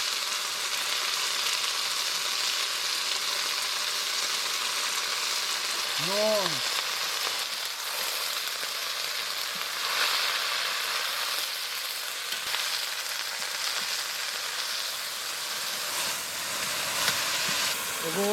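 Pan-fried greens and lentils being cooked in tribal style, producing a steady, dense sizzle and crackle that runs close and continuous, with a brief voice once and a tonal squeak partway through.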